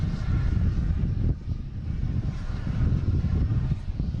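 A Cape Air propeller airplane passes at Boston Logan airport, its engine drone a steady, fairly loud low rumble throughout, with no talking.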